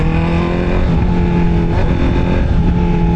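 A Honda CB650R E-Clutch motorcycle with an upgraded air filter idles or runs steadily up close, giving a loud, continuous engine drone with a strong low hum and no pauses.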